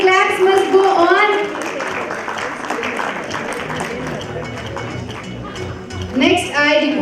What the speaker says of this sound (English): Clap for our audience. The claps must go on.